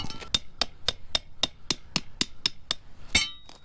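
About a dozen sharp hammer strikes land at a steady, even pace on frozen ground during landscape lighting repairs, each hit giving a bright metallic clink, close by.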